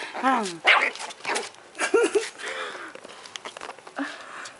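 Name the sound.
dog barking and whimpering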